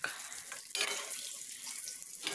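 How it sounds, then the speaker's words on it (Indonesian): Green eggplant frying in hot oil, heard as a close, steady sizzle and crackle with bursts of spitting and no talking. "Nah, kemudian kita goreng terongnya"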